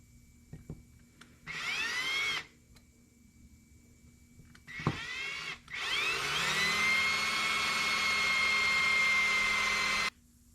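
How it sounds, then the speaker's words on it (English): A power drill whirs in three bursts, two short ones and then a long sustained run, its motor whine rising as it bites in, drilling out screws on an Apollo RFZ DB X-18 125cc motorcycle carburetor. "We gotta drill those out"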